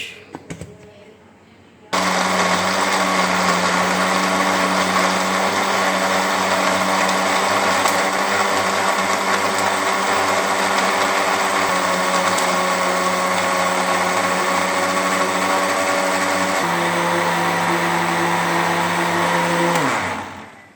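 A kitchen blender grinds a date milkshake with ice and sugar, starting abruptly after a quiet moment and running as a loud, steady, high whirring roar for about eighteen seconds before winding down, with no talk over it.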